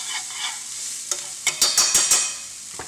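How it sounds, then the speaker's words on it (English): Dry spices cooking in oil in a pot for a red fish stew, a steady sizzle broken by a quick run of five or six loud stirring scrapes, close up and with no talking. "So now as the spices cook off, it's going to release their flavors well into the pot."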